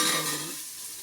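Tempering of field beans and lablab beans sizzles in hot oil on a wood-fired stove: a brief, close hiss that is loud at first and then quickly fades.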